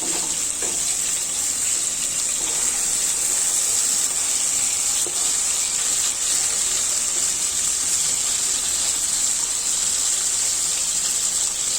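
Pointed gourd frying gently in oil over a low flame, a continuous, even sizzle with a bright hiss held close and steady throughout, with no talking.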